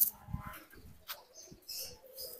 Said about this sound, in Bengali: এটা একটা ছেলে কবুতর,